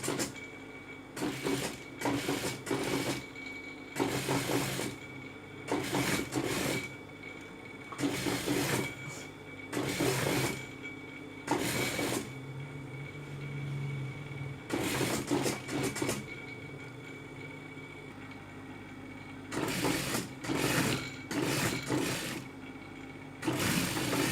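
A sewing machine stitches a hidden placket seam along the center of fabric, running in repeated short bursts separated by brief pauses, close and clear with no talking.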